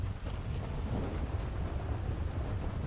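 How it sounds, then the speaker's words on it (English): A big storm: steady rain hiss and low rumbling thunder fill the whole stretch, constant and enveloping without any voices. "it's kind of a big fucking storm going on"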